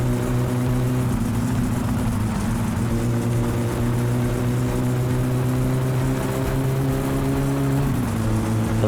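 A car engine in My Summer Car, during a rally stage, drones loud and steady as it accelerates, its pitch climbing gradually with a brief dip near the end, and no voices over it.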